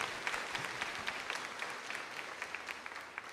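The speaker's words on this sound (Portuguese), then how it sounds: "Dá uma salva de palmas também a esses nossos irmãos" A congregation at a Catholic novena to the Immaculate Heart of Mary gives a round of applause. The clapping is soft, dense and distant, and keeps up evenly throughout.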